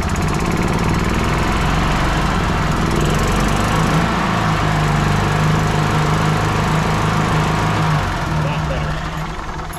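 A 1996 Club Car DS gas golf cart engine runs steadily at idle after manifold work, a loud continuous low rumble with slight unevenness throughout, fading a little near the end.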